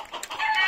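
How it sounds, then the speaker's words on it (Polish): Backyard hens and ducks clucking close by, a short burst of several overlapping nasal clucks and squawks with no talk. "Gdzie moje kury już tak nie reagują ani na Luśka"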